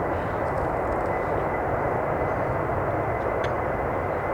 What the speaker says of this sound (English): A321 going to Istanbul and has 12 years of age.